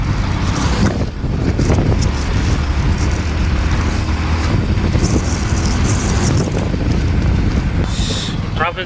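Heavy traffic roars along a national highway past a ghat road and bridge works, a dense continuous wash of car and truck engines with wind buffeting the microphone, brief talk mixed in.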